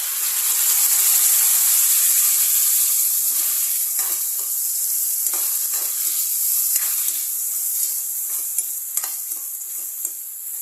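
Loud steady sizzle of tomato puree cooking in a hot pan, with soft scraping and stirring sounds recurring through the hiss.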